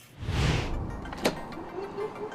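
A laboratory incubator door swings shut after germ cultures are placed inside, a brief sliding whoosh followed by a single sharp latch click, close and fairly quiet.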